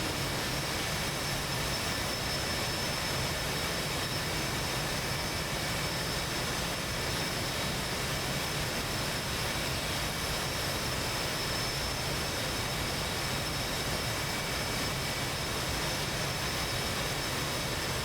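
Steady, loud jet engine roar from an F/A-18 Hornet taxiing toward a carrier catapult in the DCS flight simulator, a continuous broadband whine and rumble holding evenly throughout without pauses.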